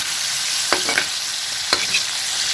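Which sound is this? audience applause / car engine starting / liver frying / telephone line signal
liver frying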